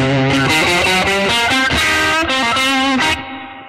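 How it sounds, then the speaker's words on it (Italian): An electric guitar played through a pedalboard with overdrive, a booster and reverb rings out in loud distorted chords and notes, a steady rhythmic phrase that ends in a reverb tail. "quando io schiaccio questo pedale, no, entrano l'overdrive della Muir, il booster della Formula B, ma anche cambia il riverbero"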